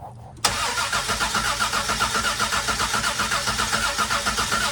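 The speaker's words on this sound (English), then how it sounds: "Let's listen to the motor now." A truck engine cranks briefly, catches and settles into a steady running idle with a rhythmic pulsing chug, close and clear, no voices over it.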